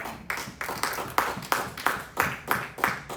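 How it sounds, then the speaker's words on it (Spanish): A church congregation at a Christian sermon claps in a steady, even rhythm, about three sharp claps per second, carrying on alone with no talk over it. "Denle un aplauso."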